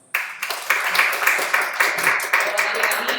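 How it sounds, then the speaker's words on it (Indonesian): An audience applauds steadily with dense, close clapping that starts abruptly and keeps going without a break. "Tepuk tangan dong."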